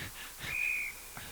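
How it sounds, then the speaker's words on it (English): A referee's whistle blows once at an Australian rules football match at a regional tournament, a single clear sustained blast of under half a second amid faint crowd ambience. "And we got another whistle."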